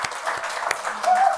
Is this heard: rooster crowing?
no